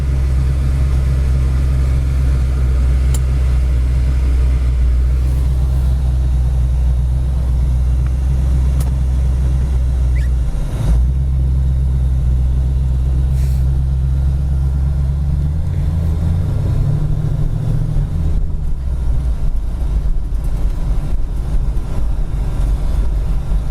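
A 1971 Ford Mustang Mach 1 engine idles in gear at about 800 RPM with a steady, deep rumble throughout, close and loud, with a slight shift in pitch near the end.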